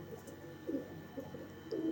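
Pigeons being offered for sale give low, soft coos in short bursts, three or four throaty calls spread across a quiet background with a faint hum.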